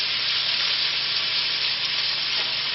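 Elk liver and onions sizzling in a hot pan, a loud, steady, close frying hiss with no pauses.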